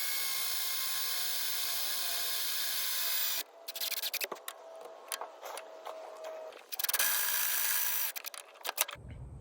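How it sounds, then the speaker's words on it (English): A power drill bores a new mounting hole for a RIGID Radiance light bar, whining steadily at first, then giving way to short bursts and pauses, and finally ending in a second long run of drilling. "drill a new hole to mount it in the proper position"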